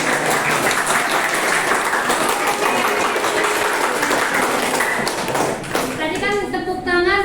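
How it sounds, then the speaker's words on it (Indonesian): A classroom audience claps for a group that has just presented, a loud, dense patter of many hands that runs throughout. A voice comes in near the end. "Tadi kan tepuk tangan untuk yang maju di depan."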